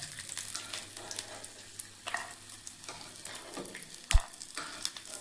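Amla gooseberries roasting in a frying pan with a little oil, a faint, quiet sizzle broken by occasional stirring scrapes and a sharp knock of a utensil against the pan.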